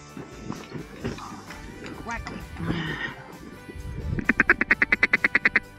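Mallard ducks quack in a fast, loud run of about a dozen evenly spaced calls near the end, at a hunt over decoys in Manitoba, after a stretch of people talking over rustling outdoor noise.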